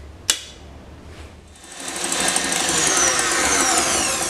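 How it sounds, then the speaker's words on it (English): An electric beater whisks egg whites in a clean mixing bowl, starting with a click and then whirring into a steady, rising high-pitched drone up close. "Now into a clean mixing bowl add the egg whites and start whisking it until it comes to a soft peak."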